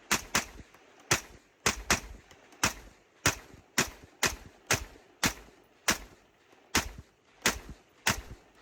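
Rifle gunfire at a multigun competition stage, loud sharp reports arriving as quick double taps in a steady rhythm, about a dozen pairs of shots with brief gaps between them.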